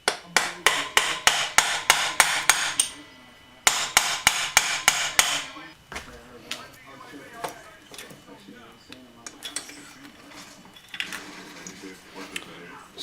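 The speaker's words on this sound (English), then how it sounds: "just a 1/4 inch extension and a hammer just to tap it out on the other side." A hammer strikes a 1/4 inch extension bar in rapid, evenly spaced taps to drive out a Honda Grom starter, two loud bursts of about ten blows each, followed by softer scattered knocks and talking.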